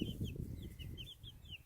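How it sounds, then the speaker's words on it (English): Young adolescent chickens outside by a coop, a series of soft high chirping clucks repeating in quick succession over a low rumbling background, faint and moderately close. "They are chicken teenagers."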